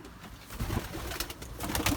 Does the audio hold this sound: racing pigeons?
yes